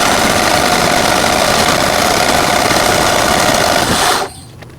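A Generac generator with a replaced mixer assembly cranks with a loud, steady, rough mechanical churn that almost catches, then cuts off abruptly near the end.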